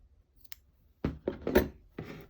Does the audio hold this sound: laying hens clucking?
no